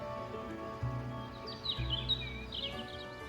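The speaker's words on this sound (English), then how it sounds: "The warbling of birds that were actually there, not some sound coming from a speaker." Birds warble outdoors in the video game Goddess of Victory: NIKKE, with several bright chirping phrases scattered over a steady low hum and music-like tones.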